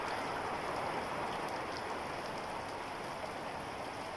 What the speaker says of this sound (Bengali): আমার কাছে বৃষ্টির শব্দটা অনেক অনেক ভালো লাগে।